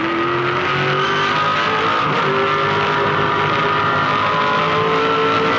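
Race car in a 2007 race heavily braking from around 100 metres and downshifting to second gear for a double-apex left-hander, a loud continuous engine howl with falling and rising pitch as gears change, heard onboard near the exhaust.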